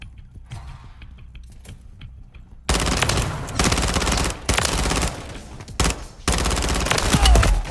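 Loud, sustained automatic gunfire erupts in long bursts during the video game Call of Duty: Modern Warfare III, breaking off briefly between volleys after a quieter mechanical stretch at the start.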